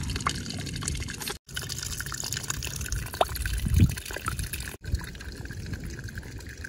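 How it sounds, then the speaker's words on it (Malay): Steady flowing water in a rice paddy field rushing and trickling throughout, with a brief louder splash midway. "Bunyi air mengalir."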